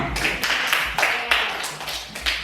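Classroom applause from a group of students during a lesson, a few short bursts of clapping spread across a couple of seconds, with some voices mixed in.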